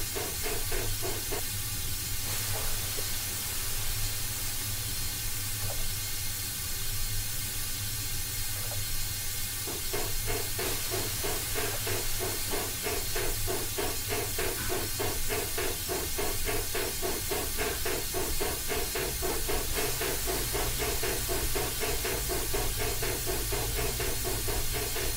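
Steam hissing from a GS-4 steam locomotive in the Train Simulator 2016 video game, a loud constant broadband hiss over low rumbling machinery, steady throughout with faint rhythmic mechanical ticking.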